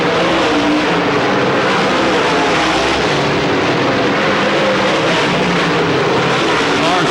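Race cars roar down the backstretch in a 1995 DTWC feature race, a continuous loud, dense engine drone with no gaps, the pack of cars close and heavy, with a commentator's voice faintly beneath.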